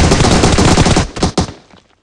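Rapid automatic gunfire from PUBG Mobile, a dense close burst of shots for well over a second, then two sharper separate cracks before it cuts off into quiet.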